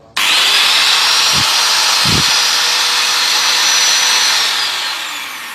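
An Enzo 680 W rotary hammer drill rated at 12,000 rpm starts abruptly and runs with a loud, steady high whine at close range, then winds down slightly at the end.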